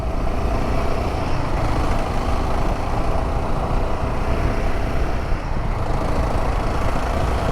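Royal Enfield Himalayan 450 motorcycle in sixth gear picking up speed, a steady broadband engine and road roar held at constant loudness with heavy wind rumble, no voices.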